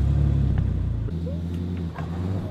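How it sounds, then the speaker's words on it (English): A car engine revs and whines at a steady pitch as its wheels spin while stuck on a bumpy cave track, with a low droning rumble that drops briefly midway and then resumes. "Oh man, we're spinning now."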